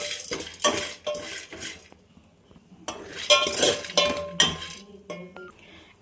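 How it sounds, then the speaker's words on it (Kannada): Peanuts roast in a metal cooking pot as a utensil stirs and scrapes, producing bursts of clinking and scraping separated by short pauses, close and fairly loud. "ಸೊ ಕಡಲೆಬೀಜ ಹುರ್ಕೊತಿದ್ದೀನಿ ಇವಾಗ ಇದೇ ಪಾತ್ರೆಯಲ್ಲೇ."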